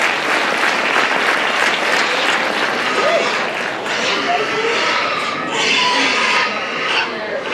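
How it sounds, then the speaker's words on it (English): Sustained applause from a crowd at a county fair hog showmanship contest fills the space, a dense clatter of clapping that swells and eases, with voices audible underneath. "let's give all these guys a big round of applause"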